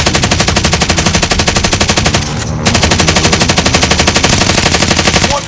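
Call of Duty Warzone gunfire, very loud continuous rapid automatic shots hammering almost nonstop, with one short pause midway before the firing resumes at the same pace.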